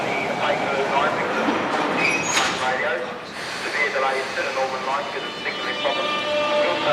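A modern London Underground Piccadilly line train running near the end of the line, a steady rumble with wheel noise and faint squeals throughout, with a voice talking over it.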